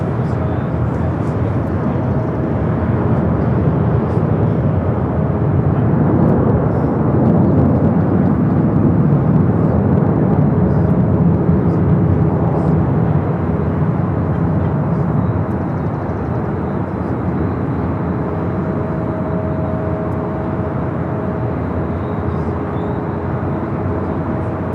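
A Japan Airlines Airbus A350-1000 jet airliner at LAX gives off a continuous loud, broad jet roar that swells and holds steady at a distance for the whole stretch.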